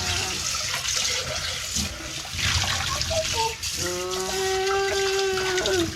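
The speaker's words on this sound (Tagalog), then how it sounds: "Oh, tapos, banlawan. Dapat banlawan." Water runs and splashes steadily close by while something is rinsed clean, with a voice and faint tonal sounds rising over the flow toward the end.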